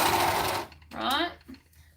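A 4-thread overlock serger runs in a short, fast buzzing burst at the start, then stops as a person begins talking.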